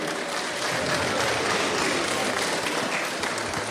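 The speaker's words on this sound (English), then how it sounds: "Can I have a big round of applause for Jamie, please?" A panel audience at a fan festival gives a steady, dense round of applause, a continuous wash of many hands clapping throughout.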